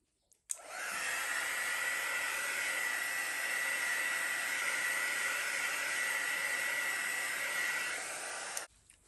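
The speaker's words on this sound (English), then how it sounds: "So I'll just hit that with the heat embossing tool." Heat embossing tool blowing hot air over poured paint, switching on abruptly and running as a steady loud whooshing hiss for about eight seconds before cutting off, with no talking.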